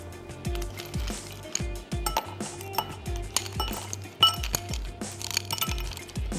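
Ice cubes drop into drinking glasses while a drink is prepared in a kitchen, a steady series of sharp clinks and knocks, close and fairly loud, with no talking.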